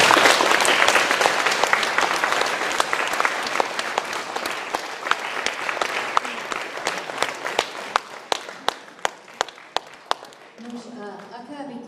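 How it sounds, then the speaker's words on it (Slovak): An audience at a 30th-anniversary celebration of the Ilava House of Culture claps in sustained applause. It starts dense and loud, then thins into scattered separate claps before fading, with some talk in the background. "ešte poprosím o jeden potlesk pre všetkých"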